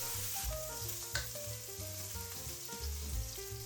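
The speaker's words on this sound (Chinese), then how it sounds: "给点老抽上个色。" Diced meat with mushrooms sizzles steadily as it is stir-fried in a hot wok with dark soy sauce, with soft scraping stir strokes over the continuous frying hiss.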